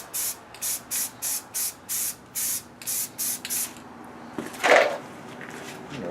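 A spray gun with a leaky nozzle puts primer and paint on a new Cherokee bumper, giving about a dozen short, evenly spaced hissing bursts. They stop, and then there is a single louder thump and rustle nearby.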